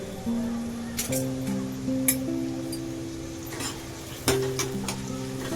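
Onion frying in a pan with oil, a soft sizzle under scattered clinks and scrapes of a spoon stirring against the metal, close and moderately quiet, with tonal hum in the background.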